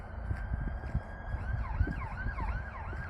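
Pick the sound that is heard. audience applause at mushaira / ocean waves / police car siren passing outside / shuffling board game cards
police car siren passing outside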